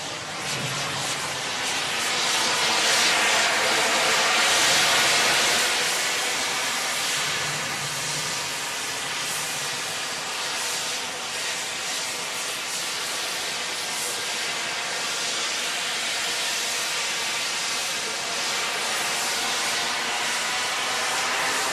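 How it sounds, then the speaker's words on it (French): A jet-powered flyboard, a flying platform driven by turbojets, roars through a public demonstration as a continuous loud broadband jet whoosh and hiss that holds steady for the whole stretch, swelling slightly early on. "une démonstration de flyboard, un genre de planche volante"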